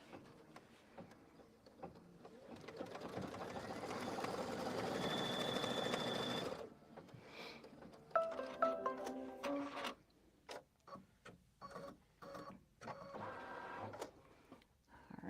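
Embroidery sewing machine stitching fabric pieces in the hoop, a soft whirring run of rapid stitching that then breaks into choppy, irregular bursts of needle clicks and mechanical movement, fairly quiet and with no talking.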